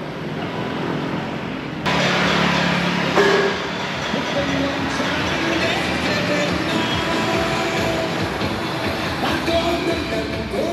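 A train at the Dalat railway station in Vietnam, built in 1943, makes a continuous rumbling noise over a busy tourist-filled station, with a sudden louder surge of clatter and some background activity.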